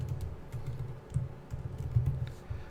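Steady typing on a computer keyboard while coding, with close, quiet key presses in quick irregular bursts and brief pauses between them.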